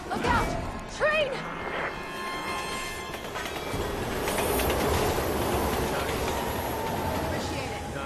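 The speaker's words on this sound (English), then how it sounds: "Look out! Train!" A train rushes past in Resident Evil 6. A loud roaring rumble with clattering and squealing builds and holds after a few shouted voice bursts at the start.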